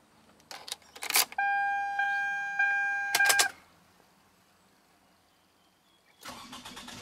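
A 2004 Toyota Camry with the 2.4 V engine cranks briefly with a high whine, catches on the second attempt and settles, followed by quieter idle and a later burst of mechanical noise, recorded close.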